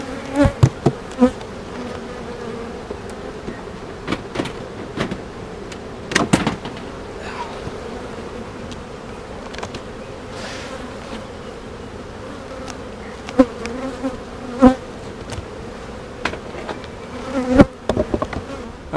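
Honeybees buzz continuously around an open beehive, a close, droning hum broken by scattered sharp knocks and clicks from handling the hive equipment.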